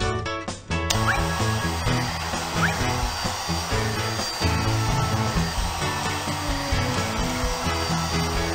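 A hair dryer in the 2002 PC pet-grooming game Kelly Club Pet Parade blows a loud, steady whir after a short intro jingle, running continuously for several seconds without voices.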